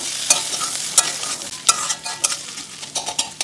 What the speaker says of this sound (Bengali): সব কিছুকে একটু নাড়াচাড়া করে নেব।